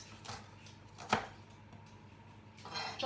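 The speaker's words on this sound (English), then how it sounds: "chopping the onion and the pepper" A knife chopping onion and pepper on a board while making red pepper and tomato soup, heard as a few sparse, faint cuts with one sharp, louder chop in the middle.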